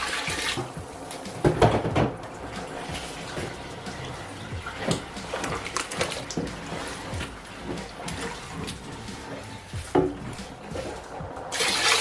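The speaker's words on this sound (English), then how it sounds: "So I'm going to add more water." Water pours and splashes into a large cooking pot for a big batch of Nigerian party jollof rice, in uneven spurts, with occasional clanks of metal and handling sounds.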